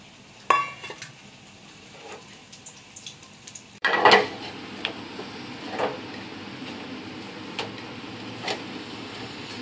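Boiled, peeled potatoes mashed with raw onion into bharta in a bowl, with soft scraping and clinks of a utensil against the dish, a sharper knock near the start and a louder burst of clatter partway through.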